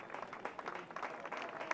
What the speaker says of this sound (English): a round of applause for Shannon Seymour